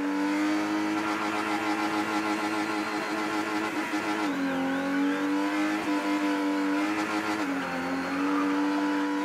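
A car spins in circles at a burnout or drifting session, its engine holding a loud steady revving drone with sustained tire squeal layered on top, rising and dipping in pitch throughout.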